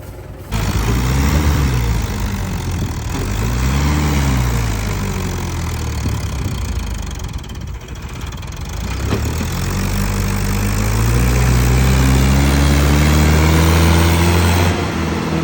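A tractor engine idles loudly and steadily nearby, its deep chugging throb rising and falling slightly throughout, the tractor hitched to a trailer of maize stuck in the field.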